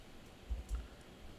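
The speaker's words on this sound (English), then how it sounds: "Just a lot of tedious clicking." Computer mouse clicking during tedious calendar updating in a word-processing document: two soft, muffled clicks in quick succession, faint and close, with no talking.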